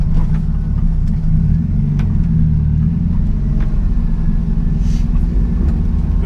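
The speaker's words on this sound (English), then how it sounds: "my maiden voyage to get my EG Civic B18 C4 Turbo tuned." A turbocharged 1992 Honda Civic EG with a B18 C4 engine drives along, and its deep, steady rumble fills the cabin with a few faint clicks and no talking.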